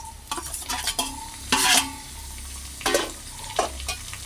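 Onions being stirred in a frying pan for a tomato curry, with bursts of scraping and sizzle at intervals over a low steady frying hiss, close and moderately loud, no talk.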